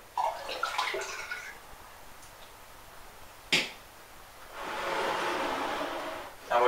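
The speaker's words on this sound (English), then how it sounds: "And we're just going to put a bit more juice in." Apple juice pours into a fermenting vessel for hard cider, with faint handling and a brief sharp knock before a steady, soft, close splashing stream of liquid runs for about two seconds.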